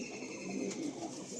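A pair of black-beaked Punjabi Malwai pigeons coo softly at close range, low throaty burbling under faint room noise with a few light chirps, no talking.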